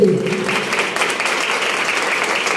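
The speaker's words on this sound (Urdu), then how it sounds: "اگر آپ ریڈی ہیں تو زوردار تالیاں بجا دیں یسوع کے لیے" A church congregation claps loudly and steadily, a dense wash of applause that fills the room without pause from start to finish.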